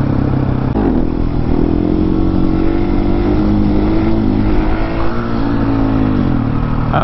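A KTM 701 motorcycle's single-cylinder engine revs steadily in second gear during a wheelie attempt, a loud, continuous close-up drone with slight pitch rises and falls as the throttle is held, wind rushing throughout.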